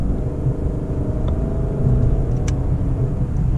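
Lexus LC500 with a 10-speed automatic gearbox heard from inside while driving on the road, its engine giving a steady, deep rumble with a slight rise in revs during downshifts.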